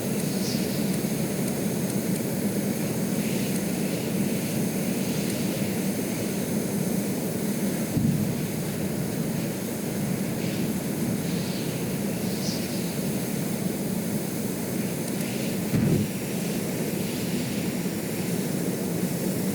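A steady, unbroken aircraft engine drone from a plane in the Stormworks video game hums for the whole stretch at an even level, with no voices.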